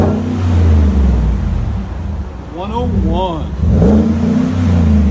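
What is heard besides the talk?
2017 GMC Sierra Denali 6.2L V8 revving with Vibrant resonator exhaust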